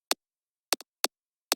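A clicky synth bass attack layer plays alone as sharp, isolated ticks, four to five quick transients spaced irregularly, dry and fairly quiet.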